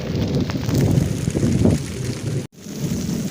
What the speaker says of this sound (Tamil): சாரல் மழை பெய்து கொண்டிருக்கிறது